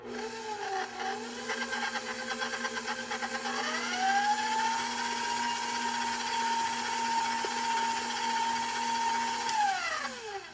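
An electric stand mixer with a scraping beater blade works sugar cookie dough with vanilla, its steady motor whine rising in pitch as the speed increases, holding evenly, then winding down at the end.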